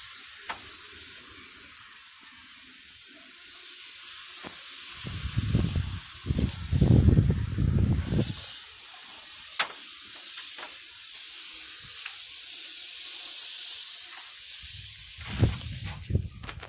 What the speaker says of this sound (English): So I'm gonna put a degreaser on it, on the valve covers.